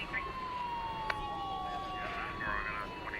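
Emergency sirens responding to an accident wail steadily in the distance, their pitch slowly sliding, with faint background noise and a brief knock.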